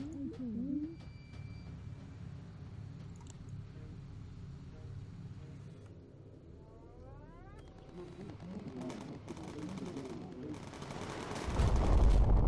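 Aircraft guns in the video game Bomber Crew fire incendiary ammo in repeated rattling bursts over a steady engine drone, growing to a loud roar near the end, with occasional voices.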